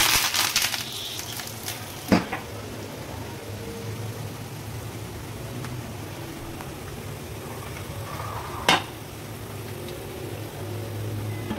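Hot tempering oil with garlic and curry leaves poured into chutney gives a steady broad sizzling hiss, close and fairly quiet, broken by two sharp utensil knocks.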